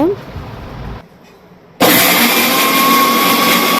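A kitchen mixer grinder blending soaked lentils and rice into batter with a pinch of turmeric starts abruptly after a brief pause and runs as a loud, steady high whirring grind, preceded by softer clatter and a short voice.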